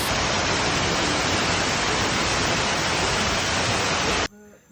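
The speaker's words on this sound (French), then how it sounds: "La petite waterfall." A small waterfall in Indonesia gives a steady, dense rushing roar that fills the scene at close range, then cuts off abruptly just before the end.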